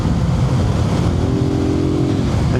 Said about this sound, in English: on the 2012 Suzuki TU250, we are in 5th gear